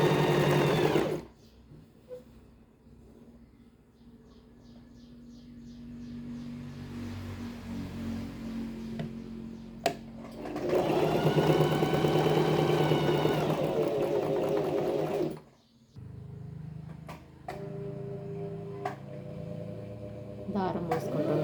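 A sewing machine stitches the seams of a blouse in bursts, its steady mechanical whir starting and stopping between stretches of someone talking.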